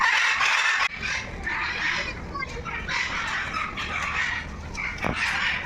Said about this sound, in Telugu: చిలుకల్లో రకరకాల చిలుకలు తెల్ల చిలుకలు